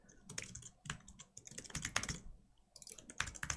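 Keys on a computer keyboard clatter in quick bursts of close, crisp taps, broken by brief pauses, with no one talking.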